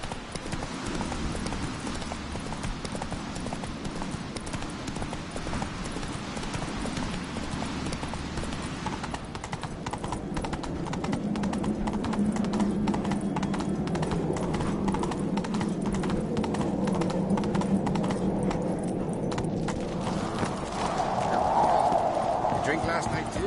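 Hooves of the horse Roach clip-clop steadily in a video game, a continuous rhythmic trot that picks up pace midway, with someone talking over it throughout.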